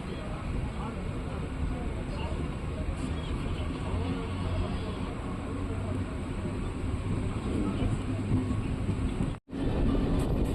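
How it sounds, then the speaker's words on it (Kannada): Inside a MEMU commuter train pulling away from Rajanakunte, a constant dense rumble and rattle fills the carriage, with voices murmuring underneath and a brief sudden dropout near the end. "ರಾಜನಕುಂಟೆಯಿಂದ ಹೊರಟಿದೆ ನಮ್ಮ ಟ್ರೈನು"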